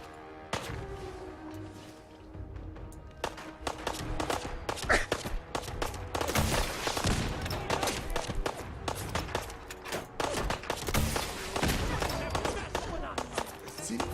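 Gunfire and missile blasts from the video game Fallout 4 crackle in dense bursts across the whole stretch, with sharp broadband hits and rumbling explosions under a steady mix of game sound and a talking voice.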